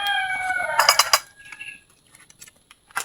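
A rooster crows close by, a loud drawn-out call that ends and trails into scattered clucks and faint clatter, with nobody talking.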